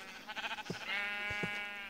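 A single Minecraft sheep bleats in a short wavering cry, close and clear, with nothing else behind it.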